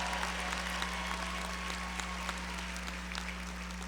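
A commencement audience of families and friends keeps up dense, steady applause at a fall 2023 ceremony, with an even wash of clapping over a constant low hum.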